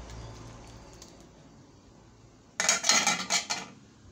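A spoon stirs onion and garlic in a pot of taro leaves and coconut milk: after a quiet stretch, a burst of clinking, scraping strokes against the pot, close and fairly loud.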